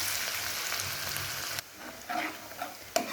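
Chopped onions fry in a pan with a continuous hiss for over a second, then the sizzle drops and returns in softer bursts with a few stirring clicks; quiet, with no talking.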